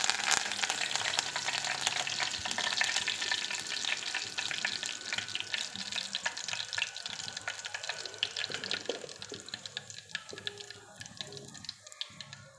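Eggplants fry in a kadai with a steady, close, moderately soft sizzle and crackle, broken by scattered clicks and stirring scrapes.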